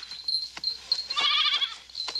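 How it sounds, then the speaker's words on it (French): A goat bleats in a wavering, drawn-out cry in the middle, with a few shorter bleats and thin high ringing around it, set in a cartoon about a girl herding goats in mountain pastures. "Tu es une vilaine chèvre."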